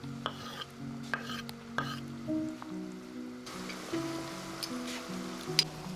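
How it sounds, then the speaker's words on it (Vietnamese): Thai-style noodle soup broth stirred in a pot, with soft scraping and swishing that grows busier halfway through, under steady tonal background music. "Và khuấy đều"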